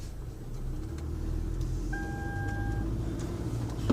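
A car fitted with a deployed hail shield drives along with a steady low engine and road rumble, slowly building, plus a brief faint tonal whine partway through.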